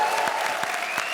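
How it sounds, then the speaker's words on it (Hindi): Studio audience on a comedy show stage claps in a brief, steady burst of applause, evenly sustained and moderately loud. "जोरदार तालियां।"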